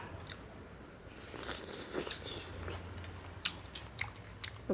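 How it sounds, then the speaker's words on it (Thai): Large raw shrimp dipped in fish sauce are chewed up close, with soft wet mastication and a few sharper crunchy bites, all faint and close to the mic. "กุ้งตัวใหญ่มาก จุ่มน้ำปลาแดกพี่น้อง"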